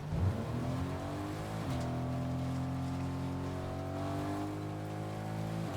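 A Fortnite car engine drones steadily, its pitch climbing gently as the vehicle cruises along, loud and close with no one talking.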